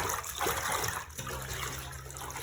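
Denim clothing being hand washed in water, with a continuous sloshing, splashing wash of liquid and some trickling, close and fairly loud with no talking.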